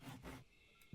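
Sawing wood in the beekeeping game APICO: a rasping saw stroke pushed back and forth twice, fairly close and soft, followed by a brief louder thump at the end.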